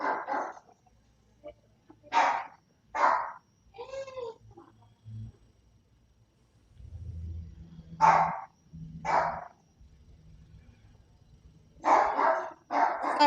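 Small dogs yapping in short bursts of barks, spaced out across a quiet room, with a low rumble of handling noise in between.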